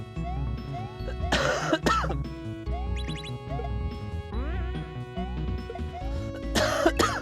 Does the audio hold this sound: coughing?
yes